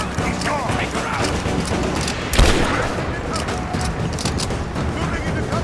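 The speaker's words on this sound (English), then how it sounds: "Laying down covering fire!" Gunfire in the Rise of the Tomb Raider video game, a dense continuous stream of shots and bursts with one heavier report, under shouted combat voices.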